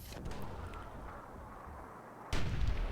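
Mortar fire in the video game Myth II Soulblighter, a low rumbling boom fading out, then a sharper, louder blast hitting near the end, heard alone without talk.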